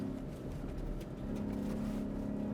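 A 2024 Ford F-150 Raptor R with its 5.2-liter V8 drives off-road, a steady loud engine drone with a low rumbling hum that holds throughout, no voices over it.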